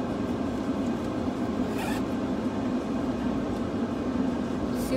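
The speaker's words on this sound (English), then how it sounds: "And then this major compartment here with a zipper." A zipper on the main compartment of a Hermes-style handbag is drawn open, making a steady close-up rasping that runs through the whole stretch with a brief brighter burst partway.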